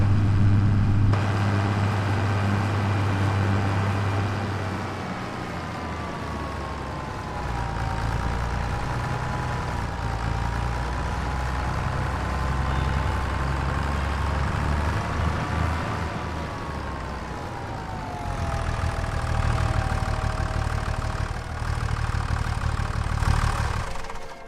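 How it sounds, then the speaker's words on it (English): A John Deere tractor engine idles steadily in Farming Simulator 2025, a loud, continuous low mechanical drone that holds level for the full stretch with slight shifts in tone and no talking. "I do love the sound of this John Deere, though. The engine."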